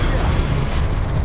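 A Confringo spell explosion in Hogwarts Legacy, heard as a loud, sustained rumbling boom with heavy low-end roar that fills the whole short moment.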